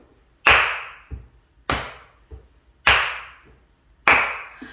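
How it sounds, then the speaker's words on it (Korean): Four loud, evenly spaced hand claps ring out alone in a room at a children's church service, each sharp hit followed by a fainter echo, as a hymn begins. "선생님 박수 치면서 같이 찬양하겠습니다."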